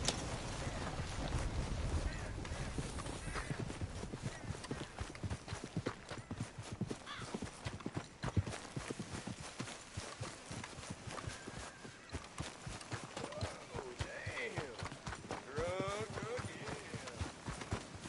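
Horse hooves clip-clop at a steady walking rhythm in the video game Red Dead Redemption 2, close and fairly quiet, with ambient game sounds and a voice talking over them.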